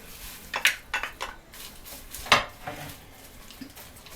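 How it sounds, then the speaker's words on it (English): A spoon stirs frozen sweet peas and dehydrated mushrooms into a stroganoff in a pot. There are a few separate clinks and scrapes against the cookware, with the loudest near the middle and quiet gaps in between. "Just a stir here."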